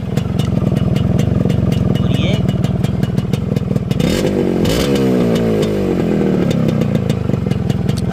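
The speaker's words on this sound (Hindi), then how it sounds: "ये नेचुरल साउंड है जो एक RX 100 का आता था, आप सुन सकते हैं।" A Yamaha RX100 motorcycle engine runs close by with a rapid, rattly two-stroke putter, revving up briefly partway through before settling back to a steady idle.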